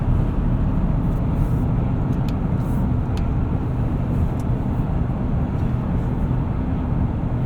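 A 2026 GMC Terrain AT4 turbocharged engine accelerating while driving, heard from inside the cabin as a steady, muffled low drone with road and wind noise, continuous and even with no talking.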